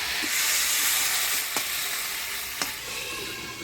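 Potatoes and drumsticks stirred in spice paste in a hot pan for a Bengali village-style fish curry, giving a steady close sizzle with two sharp scraping stirs of the spoon and no talk.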